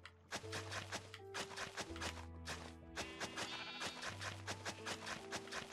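Sheep bleating in the video game Minecraft on Xbox One, a series of loud, close, drawn-out bleats repeating over steady game background sound.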